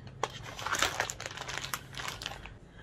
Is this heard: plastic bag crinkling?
yes